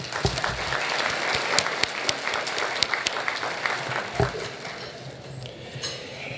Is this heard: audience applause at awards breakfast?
yes